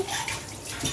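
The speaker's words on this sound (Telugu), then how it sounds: "నీళ్ళు కూడా వేసుకొని" Water is poured into a pan of village-style broad bean gravy curry, giving a brief, steady splashing rush that fills the whole second with no speech.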